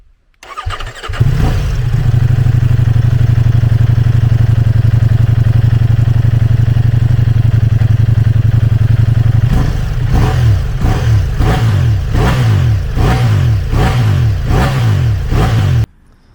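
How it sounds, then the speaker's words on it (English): A Ducati Multistrada V4S motorcycle exhaust starts up and holds a loud, steady idle for several seconds, then is blipped through a quick series of sharp, rhythmic revs close by, with no talk. "Let's have a listen to the exhaust."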